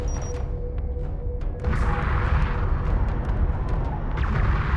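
A turret comes under fire in Homeworld: Deserts of Kharak, with repeated sharp gunfire bursts and booming impacts over a rumbling battle bed that grows louder and denser partway through.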